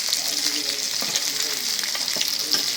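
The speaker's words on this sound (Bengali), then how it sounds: "অনেকক্ষণ করে ভাজছি, জালটা কমায় ভাজলাম।" Hilsa fish fries in a pan over lowered heat, a dense continuous sizzle up close with occasional soft spatters and faint stirring scrapes, and no talking.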